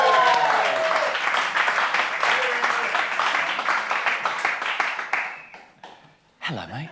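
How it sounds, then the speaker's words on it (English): At a live Edinburgh Festival magic show, the audience claps loudly as a volunteer heads to the stage, with some whoops early on; the applause gradually fades, drops away, and talking resumes near the end. "Give him a round of applause."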